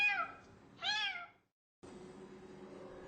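Kittens meowing, two close, rising-and-falling mews in quick succession, then a short silence followed by a faint, steady background hum.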